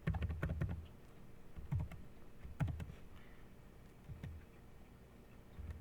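Typing on a computer keyboard, a quiet close run of key clicks arriving in small irregular clusters with short pauses between them, with no talking.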